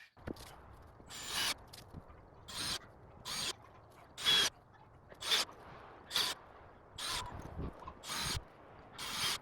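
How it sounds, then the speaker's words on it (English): Screws are driven into the studs of a pallet wood deck with a series of about nine short, rhythmic ratcheting, grinding bursts separated by brief pauses, close and alone. "Now what I'm doing is I'm trying to get the screws so they go right here and don't end up in that gap."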